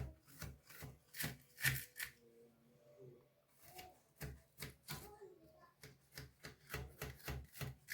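Knife cutting a piece from a tray of plain golden kunafa decorated with a Ramadan crescent, close-up crisp crunching and scraping strokes in quick bursts, pausing briefly in the middle before a rapid run of cuts.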